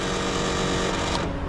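A very noisy spot welder joins a replacement bedside panel on a Ram 2500 pickup, giving off a loud, steady electrical buzz that holds for over a second before easing off near the end.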